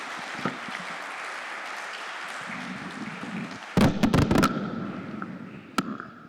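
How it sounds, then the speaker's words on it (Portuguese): Audience at a conference round-table closing session applauds, a soft sustained patter at first, then a louder burst of sharp, close claps that tapers off with a few scattered final claps. "pedia uma salva de palmas"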